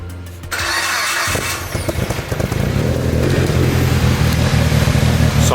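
A Mitsubishi Evo 8 with a replacement engine that burns oil and smokes at idle cranks, catches and settles into a steady, slightly uneven idle, heard close up with no talking.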